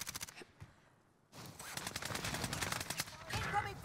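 Rapid gunfire from Call of Duty Warzone crackles through most of the stretch, a busy mix of bursts and shots after a brief quieter gap, with a voice speaking over the shooting.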